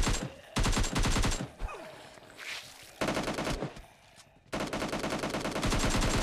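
Video game gunfire rattles in rapid automatic bursts, loud and close, separated by short pauses with faint background noise.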